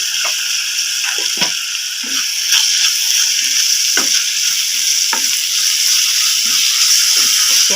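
Food with ginger-garlic paste and cumin powder sizzles steadily in a hot pan while a spoon stirs and scrapes against it in short, repeated strokes.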